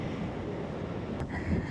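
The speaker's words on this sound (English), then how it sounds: "it's very, very windy." Strong autumn wind blows hard and roars across the microphone in a steady rushing wash on a bridge in Germany, with a brief thump partway through.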